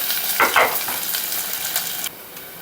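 Onions frying in oil with mustard seeds, cumin, chana dal and curry leaves, a loud close sizzle with a couple of scraping stirs early on, the hiss dropping off abruptly near the end.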